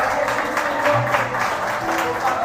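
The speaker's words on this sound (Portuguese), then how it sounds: "Você pode aplaudir a Ele, pelo amor de Deus." A church congregation applauds during a Portuguese-language worship service. Clapping runs through the clip with some vocal tones mixed in beneath it.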